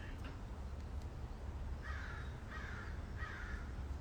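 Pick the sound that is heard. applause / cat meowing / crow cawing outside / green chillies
crow cawing outside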